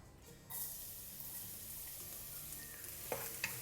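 Garlic, half a bulb, hits shallow oil in a pan and sizzles softly and continuously, with a couple of light utensil clinks near the end; quiet and close.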